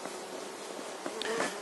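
Honey bees buzz during a varroa mite count with powdered sugar, a steady close hum with brief louder passes as individual bees come near, heard alone without talk.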